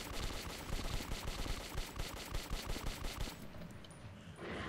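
Rapid automatic gunfire in the first-person shooter Metro 2033, a loud close burst of evenly spaced shots lasting about three seconds before cutting off into quieter game sounds.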